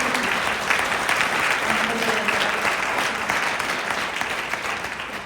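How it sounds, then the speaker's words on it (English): A live audience gives a sustained round of applause at a long event, dense steady clapping from many hands filling the room throughout. "let's give ourselves a big round of applause for staying from morning until now"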